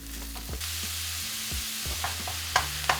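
Ground meat drops into a hot pan with garlic and chili flakes and sizzles steadily, with a constant frying hiss and a couple of light utensil taps near the end, close and clear.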